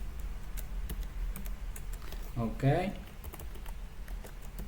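Keys clatter in quick, light bursts on a computer keyboard while an employee ID is typed into a table, soft and close, with someone speaking briefly over the tapping.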